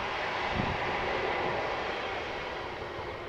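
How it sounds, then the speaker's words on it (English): A passenger airliner arriving at Amsterdam Schiphol on a flight from London Heathrow, heard as a steady, broad engine roar from outdoors beside a canal, holding level throughout with no talk. "one of the many flights between London Heathrow and Amsterdam just arrived"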